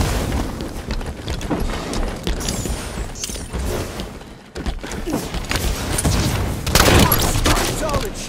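Shotgun blasts in a Halo 5 Infection match on the Ghoul Town map, bursts of gunfire and booms amid busy combat noise, with voices heard intermittently.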